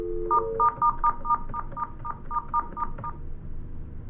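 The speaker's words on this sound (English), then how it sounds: "You will dial the number, the first party. Dial that." Touch-tone DTMF beeps from a Cisco desk phone as a number is dialed: about a dozen short, evenly spaced tones in a quick steady run, close and clear over faint room hum, with no talking.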